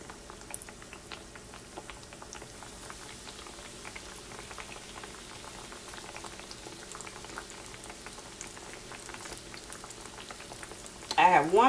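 Breaded eggplant slices fry in hot oil, a continuous bubbling crackle with fine spitting pops throughout, moderately close, ending in a short louder clatter.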